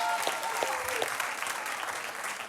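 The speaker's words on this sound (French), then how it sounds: "Allez, applaudissements pour Solange." A television studio audience applauds Solange with steady, dense clapping throughout, while voices talk over it.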